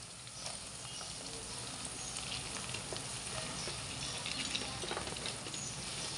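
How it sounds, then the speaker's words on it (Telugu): Chopped cabbage dropped into hot oil with onions and ginger for a cabbage curry, a loud continuous sizzle with crackling and stirring texture, close and steady throughout. "ఇంకా నేను మనం ముందుగా తరిగి పెట్టుకున్న క్యాబేజీని వేస్తున్నాను ఆయిల్లోకి."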